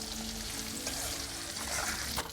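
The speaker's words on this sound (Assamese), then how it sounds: "মাছ ভজা হৈ গ'ল।" Small fish fry in hot oil in a kerahi, making a continuous crackling sizzle up close, with a brief clatter near the end.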